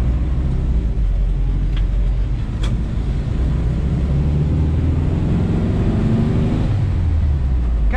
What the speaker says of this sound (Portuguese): Esse motorzinho 1500 com 52 cavalos realmente surpreende no sentido de ser um motor bem acertado